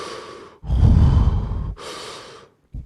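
A storyteller imitates heavy breathing with his voice: a long loud inhale followed by a slower exhale, then a short sharp breath at the end, close and unaccompanied.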